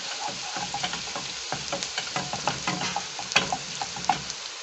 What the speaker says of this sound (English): We let the garlic cook for a minute or two till you get that flavor of onions and garlic